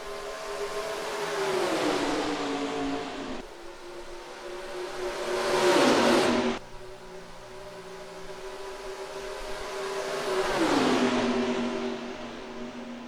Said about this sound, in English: steps on the gas for green flag racing at Charlotte